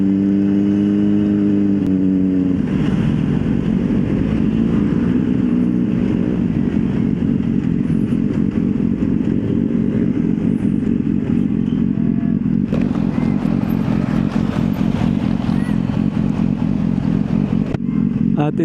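Congested road traffic near a bridge off Cavitex, with cars and motorcycles rumbling and revving nearby, a thick continuous engine drone with clatter and a brighter hiss joining partway through.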